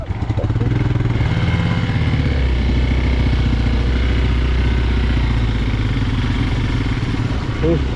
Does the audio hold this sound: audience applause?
no